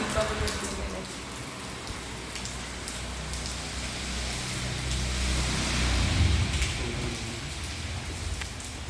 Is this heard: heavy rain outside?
yes